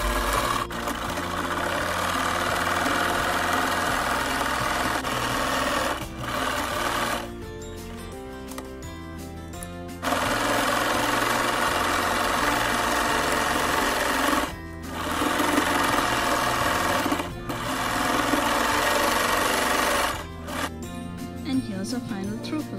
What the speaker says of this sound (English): I always love sewing in our logo.